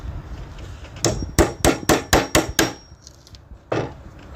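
Hammer blows drive a chisel into a wooden slab while building a tank stand, about eight sharp, evenly spaced knocks, close and distinct, followed by a final strike after a short pause.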